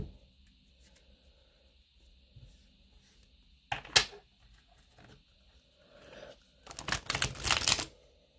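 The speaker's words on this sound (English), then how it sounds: "Let's have a few shuffles." Tarot cards are shuffled in a quiet room, a couple of brief riffling bursts with a louder sustained flurry of card flicks near the end, close and crisp against near silence.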